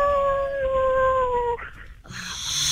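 A man imitates a wolf howl in a street with long, sliding, wavering tones held for about a second and a half, followed by a short burst of noise and a bright, higher-pitched cry.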